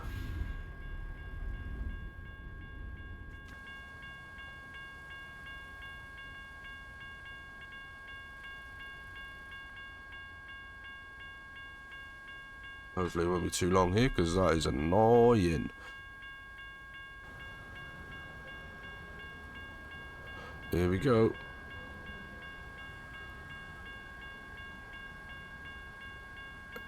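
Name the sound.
train passing, from a video game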